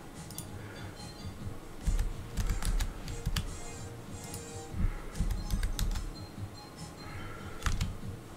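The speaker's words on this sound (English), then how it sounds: "I'm just typing in 130 and then press enter." Typing on a PC computer keyboard, a run of irregular key clicks and taps in bursts, fairly close, over a low background murmur.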